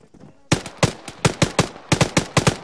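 Automatic weapons fire in the military game Arma, set in a 1974 Altis campaign, comes in sharp, loud bursts of a dozen or so shots after a quiet start, spaced in an uneven, rapid rhythm.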